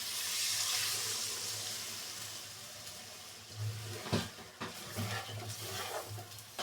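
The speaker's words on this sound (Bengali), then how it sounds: "এখন আমি এখানে পানি দিয়ে দিচ্ছি" Water pours from a tap into a pot of tilapia curry with tomato and potato, a rushing stream that fades, followed by scraping and stirring clatter.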